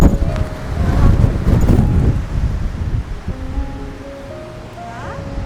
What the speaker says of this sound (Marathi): खतरनाक वारा म्हणजे एवढा की पुढे जाऊ शकत नाही.